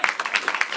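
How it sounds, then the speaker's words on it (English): A short burst of audience applause at a live comedy improv show, scattered quick claps from a small group, close and moderately loud, lasting under a second. "Clap for your suggestions, everyone."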